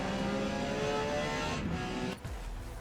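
A Porsche 956 P-class race car in Forza Motorsport roars steadily around the Hakone Grand Prix Circuit, with a dense, continuous engine drone that dips briefly near the end before picking up again.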